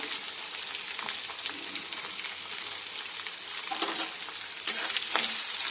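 Onion and green chilli frying in a pan for poha, a steady close hiss and sizzle with faint stirring scrapes and a few louder crackles near the end, no talking.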